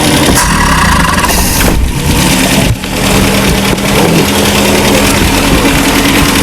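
A 1968 Commer 2500 van engine running loud and close, revving and accelerating with a brief dip and stumble, the motor misfiring under quick throttle.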